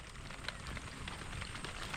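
Faint, light rain patters steadily on a surface, a soft continuous hiss with scattered tiny drops, quiet and distant.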